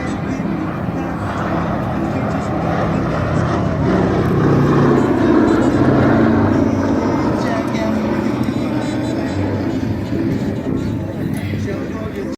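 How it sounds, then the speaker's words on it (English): A B-17 Flying Fortress bomber drones past at an air show, a deep, rumbling propeller sound, continuous, loud and broad, with crowd noise blended underneath. "Here's our last pass by the B-17 Flying Fortress here at the Melbourne Air and Space Show."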